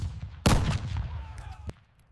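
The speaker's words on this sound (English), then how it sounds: "Fields once peaceful became stages of thunderous musket fire." Thunderous musket fire from a battle, a sudden loud blast followed by a rolling rumble of further shots and echoing reports, with a sharp second crack near the end before it fades.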